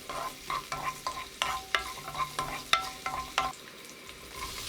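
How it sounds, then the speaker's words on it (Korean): Sliced garlic stir-fries in two spoons of cooking oil over high heat, a steady close sizzle punctuated by repeated scraping strokes of a spatula against the pan, with no voices. "식용유 2스푼, 마늘 넣고 센 불로 30초 볶아줍니다."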